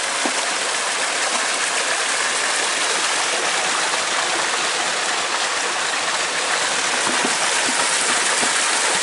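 Serindere stream and waterfall in Kocaeli rush continuously in a dense, steady wash of splashing water, close and loud throughout with no voices.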